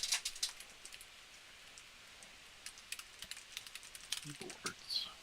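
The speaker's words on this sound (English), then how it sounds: "Keyboards." Computer keyboards clatter faintly during a Mechwarrior Online session, with scattered soft key clicks in irregular bursts that are quiet and close.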